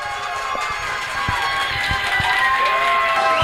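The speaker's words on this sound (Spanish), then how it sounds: "Vamos entonces ahora con los aplausos" Television studio audience applauding and cheering for a couple on a competition show, a continuous roar of clapping and shouting that swells slightly toward the end.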